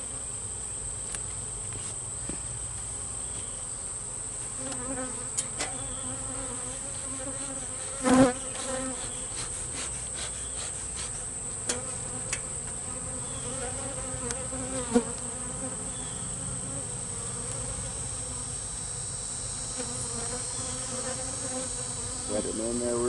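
Bees hum in a dense, steady drone from many insects close by inside an open hive, with occasional soft knocks and bumps and no talking.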